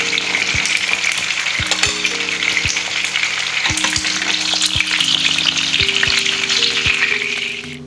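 Pastries deep-fry in hot olive oil with a dense, continuous sizzle and bubbling, punctuated by occasional clinks of a utensil against the pan, loud and close.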